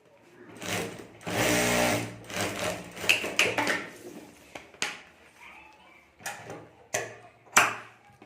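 A sewing machine stitches down folded piping on a handmade clutch bag in short bursts, with a sustained run early on and several brief stops and starts, heard close up without talk.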